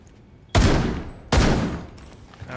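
Gunfire in the video game Rainbow Six Siege, two loud booming shots about a second apart, each with a long decaying tail, close and dominant.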